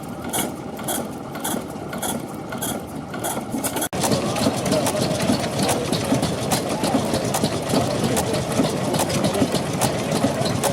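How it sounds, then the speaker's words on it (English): Deutz E12 stationary gas engine, built in Germany in the early 20th century, starting cold: a quieter opening gives way after about four seconds to a loud, steady, close running beat with regular mechanical ticking. "This is a Deutz E12, a stationary gas engine produced in Germany in the early 20th century."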